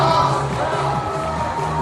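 Dense, steady crowd applause and cheering from a large audience at an outdoor Dalseong County residents' sports festival in Daegu, loud and continuous throughout with a faint musical tone underneath.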